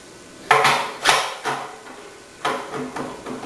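Slicing disc fitted into a vegetable slicer machine: several distinct plastic and metal clunks and knocks spaced about a second apart, close by and moderately loud, with no voices.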